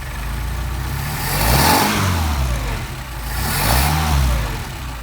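A Mercedes 190SL engine fed by Solex carburetors runs steadily up close, its low rumble swelling twice in slow, smooth rises and falls of revs over a constant loud drone.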